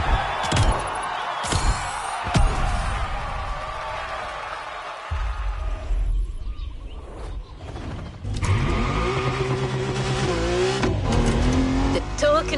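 Mercedes-AMG One hypercar driving in the racing game The Crew Motorfest, with a steady engine drone, mechanical whine and tire noise that shift in pitch through the run, loud and continuous for about twelve seconds.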